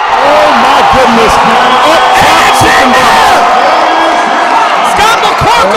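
Crowd roars and cheers continuously and loudly at the A7FL 2023 championship football game between Tampa Nightcrawlers and Las Vegas Insomniacs, with a commentator talking over the din.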